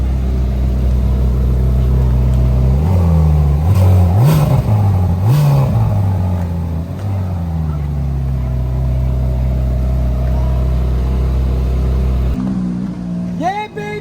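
A powerful Ferrari or Lamborghini supercar engine revs repeatedly, rising and falling in sharp bursts, then settles into a loud, steady rumble close by, in Monaco.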